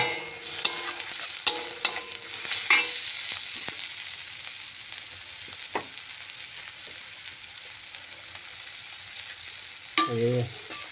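Mustard paste and turmeric sauté in hot oil for a Bengali small bata fish curry, a close sizzle broken by several sharp spatula knocks and scrapes against the pan, with a brief louder scrape near the end.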